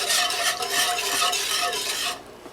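A utensil scrapes and stirs milk in a pot as it heats for homemade yogurt, making rapid, rhythmic swishing strokes close by that stop abruptly near the end.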